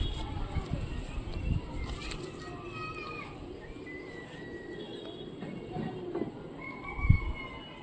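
Pigeons in a loft coo softly at a distance under a low background rumble, while someone talks nearby.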